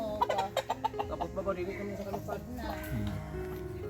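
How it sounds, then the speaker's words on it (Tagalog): Native chickens cluck in a series of short bursts near the start, then a steadier murmur of clucking continues with voices talking over it. "Yan, native na manok po yan."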